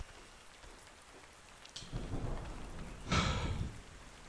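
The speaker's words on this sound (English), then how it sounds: "Everything's subdued by the rain." Steady rain falls outdoors as a soft, continuous hiss, with a couple of louder splashy gusts or rumbles swelling midway; no voices are present.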